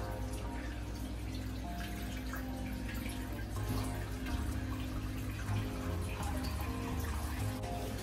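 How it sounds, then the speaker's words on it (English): Water pumped up from a basement sump spills into a reef aquarium and overflows, a steady close splashing and trickling with faint dripping over a low pump hum. "So now we have water coming in the tank from downstairs."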